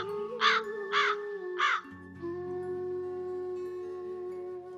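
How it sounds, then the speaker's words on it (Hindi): A cartoon crow caws three times in quick succession, loud and close, each harsh call spaced about half a second apart, followed by a lingering tonal music bed. "पकड़ लो इस कालू कौवे को और कारागार में डाल दो"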